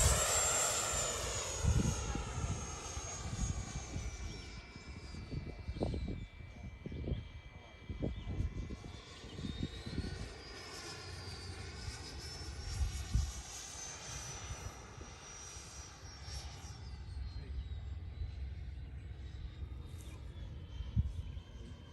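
An E-flite F-16 Falcon 80mm RC jet with an afterburner roars and whines steadily at a distance, its pitch sweeping as it passes and changes speed, with a faint breezy background.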